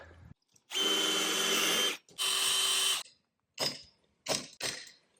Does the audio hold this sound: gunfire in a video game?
no